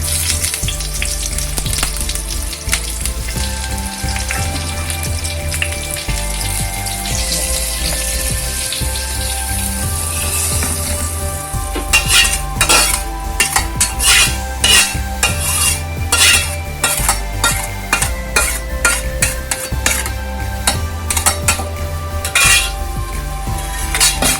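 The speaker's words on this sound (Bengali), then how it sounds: "ঘিয়ের মধ্যে আমি এই আর কাঁচা লঙ্কা 4-5টা দিয়ে দিয়ে এর মধ্যে ঢেলে দেবো।" Green chillies fry and get stirred in hot ghee in a pan for a Bengali kabuli chickpea ghugni, with steady sizzling, scraping stirs and metal clatter that grow busier partway through, loud and close under a persistent low hum.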